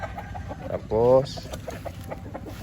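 Black Henny hens at a gamefowl farm give one clear, close cluck midway, with fainter clucks and farmyard noise around it and a person speaking briefly.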